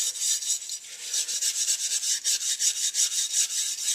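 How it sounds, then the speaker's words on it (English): Surface rust being scrubbed off a vinegar-soaked Honda CB200 motorcycle part, a steady rhythmic rasping rub in quick back-and-forth strokes, close and fairly loud with no talking. "So just give a scrub on the other side"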